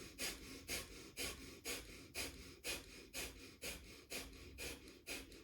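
Rapid, even Breath of Fire breathing, with strong rhythmic in-and-out pumps through the nose at about two per second, close and steady with no talking.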